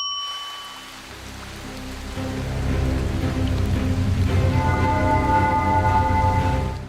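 Steady, hissing rain falls in a video game scene, a constant wash that swells and thickens after a couple of seconds, with a low tonal drone beneath.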